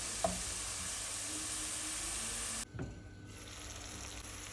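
Onions frying in a pan with a steady close hiss of sizzling, briefly dipping and then resuming, with a light clink near the start and no speech.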